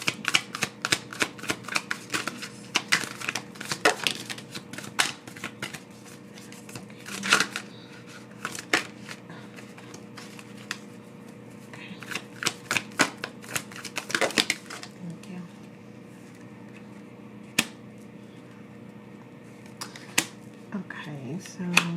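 Tarot cards being shuffled and drawn, a run of crisp flicks and riffles in quick clusters, close and fairly quiet, with a voice speaking softly in the background at times.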